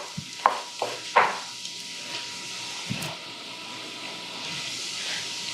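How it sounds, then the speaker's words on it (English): Garlic and onions cooking in a pan for mujadarra give a soft, steady sizzle and hiss, with a few sharp clinks of a utensil against the pan near the start. "is there anything better than garlic and onions cooking?"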